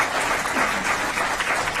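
Brief, dense applause from the audience at a county council committee worksession, steady and moderately loud throughout, with no talking over it.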